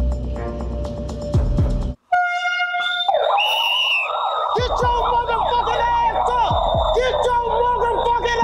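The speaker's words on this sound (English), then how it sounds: "Sirens and shit." Emergency vehicle sirens wail and yelp loudly, rising and falling in pitch and overlapping one another, after a brief break of near silence, with voices mixed in.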